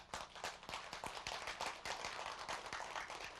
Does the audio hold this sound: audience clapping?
yes